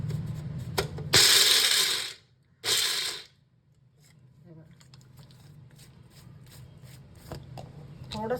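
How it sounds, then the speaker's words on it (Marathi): Mixer grinder coarsely pulsing peanuts in short bursts: two loud whirring spins followed by a quieter rattling tail, close to the microphone. "आता हे थोडेसे जाडसर मी वाटून घेणार आहे"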